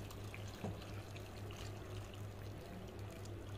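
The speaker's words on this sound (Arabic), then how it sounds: "هنزل بقى عليها بالصلصه" Hot tomato sauce poured over pasta in a baking dish for a chicken pasta bake, a steady, soft liquid pour with a faint trickle running the whole time over a low background hum, with no talking.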